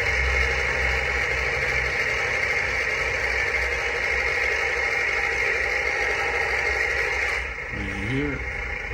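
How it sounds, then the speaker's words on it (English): The small electric motor of a Lesu RC construction road roller hums steadily at a constant pitch over a noisy background, with a brief rising whir near the end as it revs up. "You can hear it revving up."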